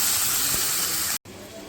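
Water pours into a pot of masala daal, a loud steady hiss and splash of liquid hitting hot food that cuts off abruptly, then continues more softly.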